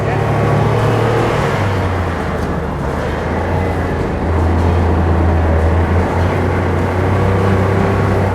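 A WW2 tank engine runs loud and heavy while the tank is driven. A deep droning rumble shifts pitch slightly with throttle and carries steady mechanical noise throughout.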